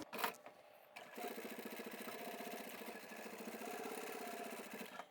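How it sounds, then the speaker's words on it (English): A sewing machine stitches fabric for a fully lined boxy zipper bag, running steadily and close for about four seconds after a short pause, with a rapid, even mechanical chatter. "we're going to sew from the top down to the other end."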